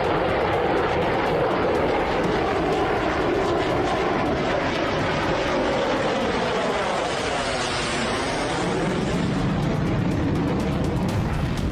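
A fighter jet, a Chinese J-20, roars steadily overhead for about twelve seconds, a loud, dense engine rush whose pitch sweeps down and back up as it passes, with no voices.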